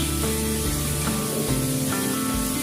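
Ginger, garlic and cumin pastes go into a hot pan of fried onions and snakehead fish, producing a steady, loud hissing sizzle that sits over a low hum.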